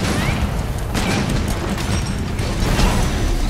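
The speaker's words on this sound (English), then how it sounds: "Massive explosion there" A big video-game explosion roars as a dense, continuous rumble with crackling bursts, loud and filling the whole stretch without a pause.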